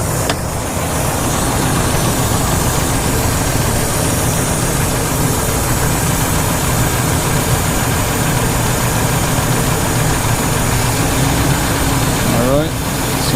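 A Ford engine idles steadily with the air conditioning compressor engaged, a constant loud low drone that runs throughout with little change.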